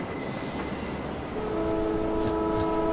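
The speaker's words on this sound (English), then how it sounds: "I'm gonna run to the train. Looks like a train." A train in a video game rolls past with a loud, steady rumble, and sustained horn-like tones swell in partway through and hold to the end.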